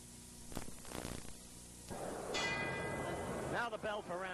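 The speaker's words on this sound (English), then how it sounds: "Now the bell for round 6." A boxing ring bell rings to open round six of the Joe Frazier versus Jerry Quarry heavyweight bout, a sustained metallic clang ringing over a loud, noisy arena crowd.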